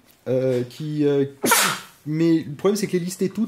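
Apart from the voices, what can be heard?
sneeze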